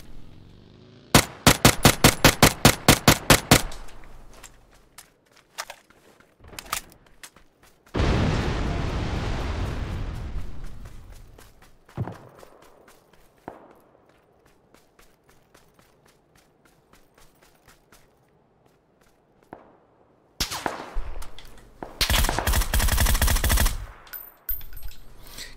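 PUBG battle gunfire comes in rapid automatic bursts, loud and close at first, then a rushing blast-like roar, scattered distant single shots, and another heavy stretch of sustained firing near the end.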